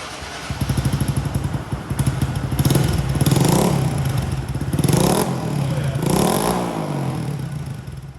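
A 2022 Honda Grom motorcycle fitted with a new aftermarket exhaust idles with a close, lumpy putter, then revs up in several rising and falling throttle blips, loud and alone.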